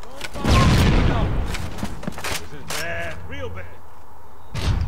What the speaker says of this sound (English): My teammate just threw a freaking grenade at me.